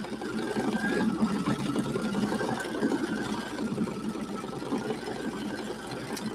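An embroidery machine stitches out a design in a steady, continuous mechanical hum and rapid needle chatter, close by and unbroken for the whole stretch.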